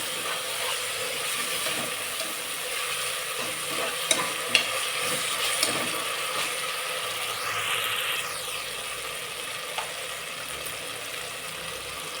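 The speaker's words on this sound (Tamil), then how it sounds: "இஞ்சி பூண்டு சேர்த்துக்கிறேன். நல்லா வதக்கிங்க." Ginger and garlic sauté in a pan for goat intestine curry, with a steady sizzle and occasional scraping stirs of a spatula, close and alone without voices.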